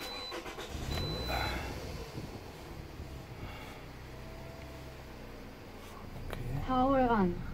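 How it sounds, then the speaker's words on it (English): A 2006–2008 Toyota RAV4 is started, a short burst of cranking and then an engine hum, followed by in-car electronic chimes near the end while a person talks over it. "I'll go ahead and start the car."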